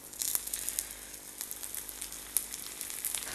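Papdi fry with a little oil on a non-stick pan, a soft, steady sizzle dotted with faint pops and crackles heard up close, with no talking.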